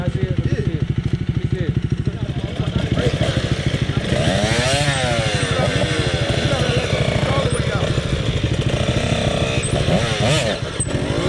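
An older motorcycle with a manual clutch runs close by, its engine chugging in a fast steady rhythm with some revving swells and mechanical clatter throughout, loud and continuous; no one speaks.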